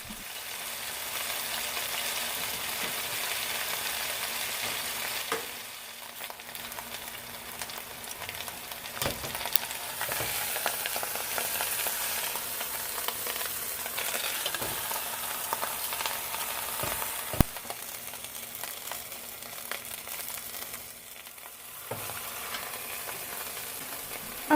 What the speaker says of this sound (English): I'm placing my meat in my Dutch oven, and I'm just going to brown it on all sides